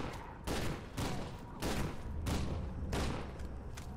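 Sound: shotgun gunfire in the F.E.A.R. 2 video game

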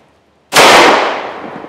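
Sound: 10mm pistol gunshot, 200 grain hard cast lead round

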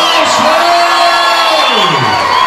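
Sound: boxing crowd cheering and applauding

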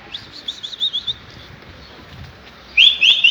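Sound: pigeons taking flight, wings flapping

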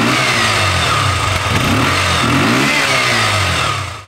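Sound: KTM 125 Duke motorcycle revving with original exhaust

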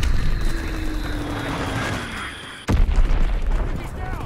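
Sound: enemy recon aircraft strafing in Call of Duty WW2 video game

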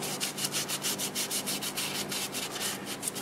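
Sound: rubbing finish onto a turned mimosa wood vase

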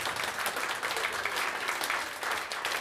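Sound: audience applause at a concert

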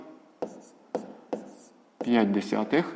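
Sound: writing by hand

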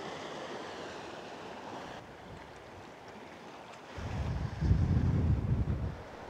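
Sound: wind at the beach while fishing

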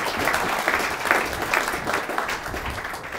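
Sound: audience applause

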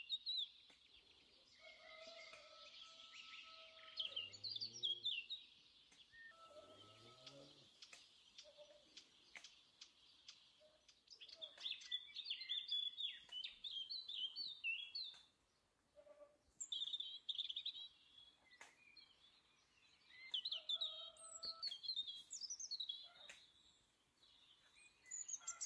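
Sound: birds singing in a plum orchard

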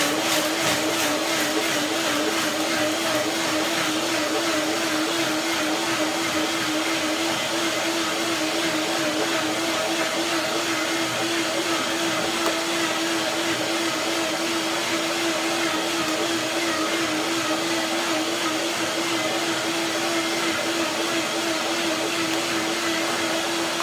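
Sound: blender blending curry cream dressing

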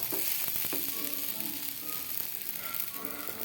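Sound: tomato dosa sizzling on the pan after flipping

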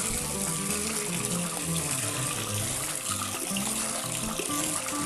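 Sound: water rinsing the mouth of a betta fish bottle

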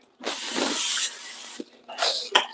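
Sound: olive oil cooking spray spraying

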